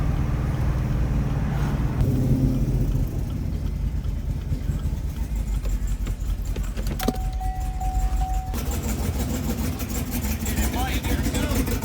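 A 2016 Chevrolet Camaro V8 engine with a cracked valve spring runs steadily up close, a low rumble with people talking over it and a brief high tone partway through.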